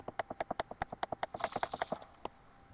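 Horse hooves in the Minecraft video game clop in a quick, steady rhythm, about fifteen sharp close steps over two seconds, then a single later hoofbeat after a short pause.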